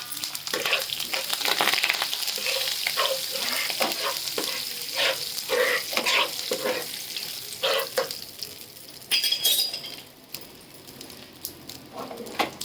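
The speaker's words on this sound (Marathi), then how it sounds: "तेल चांगलं तापून घेतलं टाकून घेतली दोन चमचे कढीपत्त्याचे पानं थोडीशी हळद" Curry leaves and a little turmeric sizzle and crackle in hot oil in a pan, a loud continuous frying hiss with stirring scrapes, close, easing off near the end.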